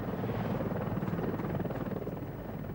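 Mi-24 Hind military helicopter flying, a steady loud rotor and engine roar with dense low thumping that holds at even strength throughout, no voices.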